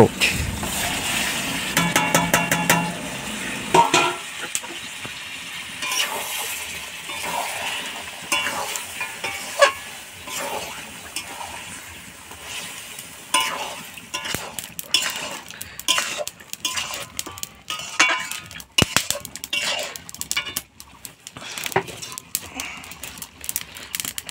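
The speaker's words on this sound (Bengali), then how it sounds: "এখন আমাদের মাংসটা কষানো হচ্ছে।" Local desi chicken being sautéed in a spice paste in a pan, with steady sizzling, frequent scraping and clinking of a metal spoon against the pot, and no talk.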